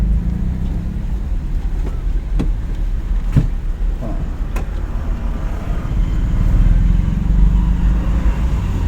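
Steady, close drone of a car accelerating gently in second gear on a driving lesson, a low engine hum with road noise inside the cabin and a few faint clicks.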